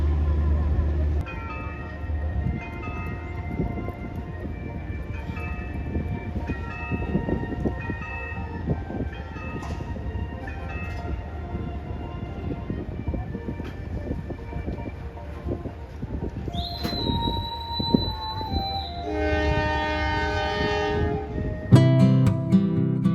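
The Sri Tanjung economy train pulls out of Nganjuk station with a continuous rumbling roll and clanking, then a loud sustained horn blast sounds near the end.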